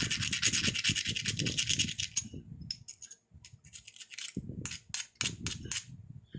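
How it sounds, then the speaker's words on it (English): Hand abrader grinding the snapped edge of a piece of glass cut with a tile cutter, short harsh rasping strokes in bursts with brief pauses, close and loud, no talk. "Now I'm going to take my trusty abrader and abrade that."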